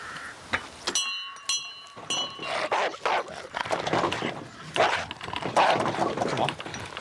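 A big dog barks loudly and repeatedly close by, sharp bursts breaking through overlapping talk and background noise.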